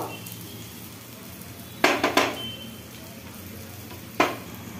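Egg toast fries in a pan with a quiet steady sizzle, broken by a few sharp bursts of scraping or turning around the two- and four-second marks.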